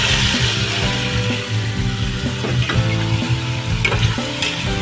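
Beef frying in a pan for beef pares, a loud, steady sizzle with scraping clicks from stirring throughout, close up and without talk.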